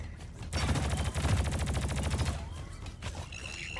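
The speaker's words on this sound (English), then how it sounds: "The Voltaic SMG's actually pretty good at dealing with Fester fleas as well, I guess." A Voltaic SMG fires a rapid, sustained burst of about two seconds in the Deep Rock Galactic video game, tapering into game effects and faint background sounds.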